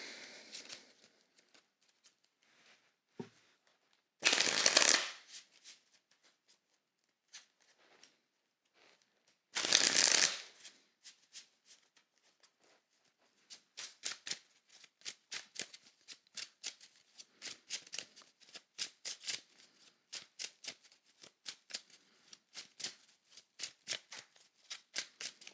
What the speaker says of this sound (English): Let's pull some tarot, shall we?